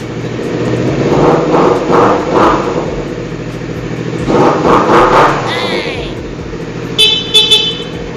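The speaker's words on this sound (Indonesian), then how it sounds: "coba kita cek mesin, karena jarang dengerin mesin yang suara racing ya." A motorcycle engine with an Akrapovic racing exhaust idles and revs in several bursts, fairly close, with an indistinct voice and a short beeping horn-like tone near the end.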